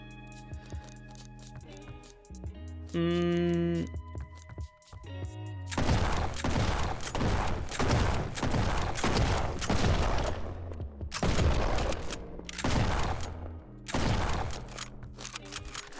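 Shotgun blasts in the top-down roguelike shooter Flashes of Chaos, a string of loud, close booming shots in irregular clusters after a short stretch of tonal game music and menu beeps.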